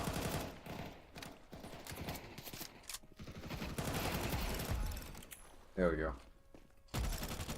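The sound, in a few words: gunfire in a video game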